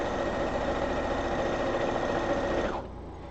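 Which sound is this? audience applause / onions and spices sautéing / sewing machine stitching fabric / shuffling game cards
sewing machine stitching fabric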